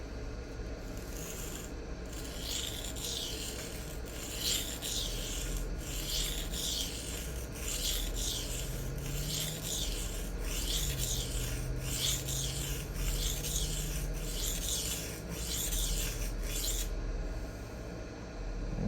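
A tanto knife blade is sharpened freehand on a diamond plate stone, giving close, rhythmic scraping strokes in repeated bursts over a steady background hum, with no talk.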